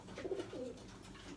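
A single pigeon from a pigeon-flying loft gives a brief, low, rolling coo up close, with a second quieter murmur just after.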